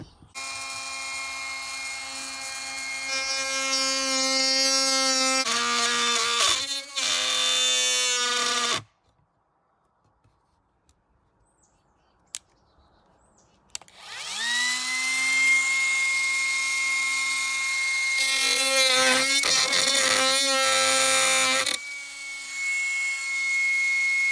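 A HyperTough 12V cordless router cutting freehand, its high motor whine spinning up and bogging as it bites, then stopping for several seconds of near silence before starting up and cutting again, close and loud.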